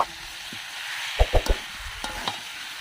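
Potatoes tossed into hot spiced oil with tomato for a Bengali jackfruit and prawn curry sizzle steadily, with a few sharp stirring clacks of the spoon against the pan.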